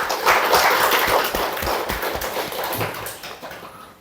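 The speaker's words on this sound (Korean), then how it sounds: "같이 응원의 박수 한번 부탁드리겠습니다" A church congregation claps together in encouragement, a dense, steady wash of many hands close by that holds for about four seconds and tails off slightly at the end.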